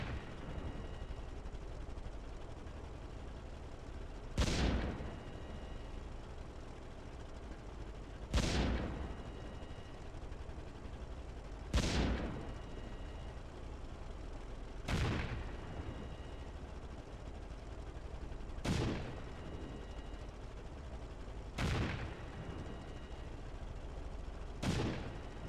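Battle cannons firing in the video game StormWorks: seven booming shots at roughly three- to four-second intervals, each a sharp blast fading into a short decay, over a constant low rumble with no talk.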